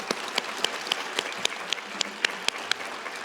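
An audience at the University of Idaho Idaho Falls commencement ceremony claps for the platform party, a dense, steady round of applause with sharp individual claps standing out, heard from within the hall.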